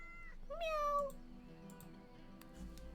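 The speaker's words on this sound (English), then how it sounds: "Kitty, kitty, kitty! I can pet the kitty!" A cat meows once, loud and close, with a rising-then-falling cry when petted in a video game, followed by quieter game ambience.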